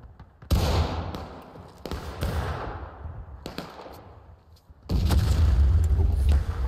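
Musket volleys in the Civil War game War of Rights crash out as several heavy booming bursts, separated by short gaps, with rolling echoes trailing after each one.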